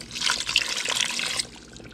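Water pours from a cup over pork taco meat in a pot, a bright steady splash lasting over a second before it trails off into quiet.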